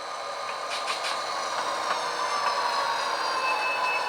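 Model train cars rolling along a layout track, a steady metallic running sound with faint wheel squeal and high ringing tones, held at an even level throughout with no talk.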